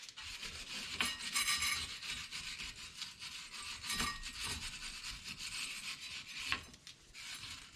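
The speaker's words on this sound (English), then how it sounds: "we're going to clean up this surface here with my almost completely dead wire brush" A nearly worn-out wire brush scrubs the mating surface of a BMW 330xi brake rotor, making harsh, rasping back-and-forth strokes in irregular bursts, close up and with no talking.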